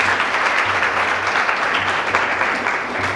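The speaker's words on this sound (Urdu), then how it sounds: "یسوع کے جلال کے لیے زوردار تالیاں بجائیں۔" A church congregation gives loud applause for the glory of Jesus, continuous dense clapping at a steady level throughout.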